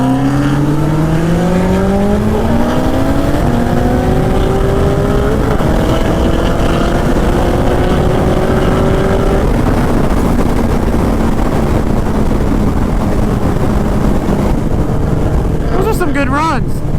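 An 800 wheel horsepower Cadillac CTS-V and a turbocharged Hayabusa race, their engines rising in pitch through the gears, loud and sustained, with a crowd talking over the roar.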